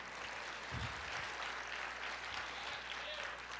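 A church congregation applauds together as a steady, dense wash of clapping that fills the whole moment, loud and continuous with no pauses.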